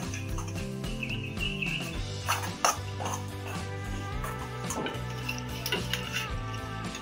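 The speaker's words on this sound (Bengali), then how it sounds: "এবার এটা আমি একটা ব্যাটার টাইপের করে নেব।" Egg being whisked into a batter in a bowl for a breakfast snack, a clattering utensil scraping and clinking against the bowl in quick strokes, close and fairly steady, with background music throughout.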